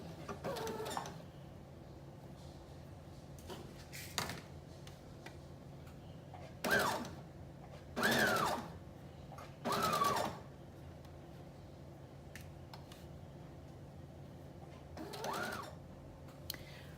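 Sewing machine stitching along the edge of a sleeve casing on a wrap dress, heard as several short, separate bursts of whirring with quiet pauses between them.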